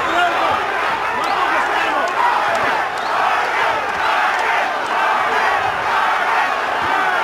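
A boxing arena crowd roars and cheers continuously throughout a professional bout, a dense, loud wall of voices with rising shouts, while a commentator talks over it.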